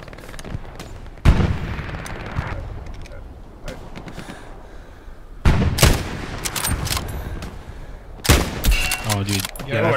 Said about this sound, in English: taking shots from west.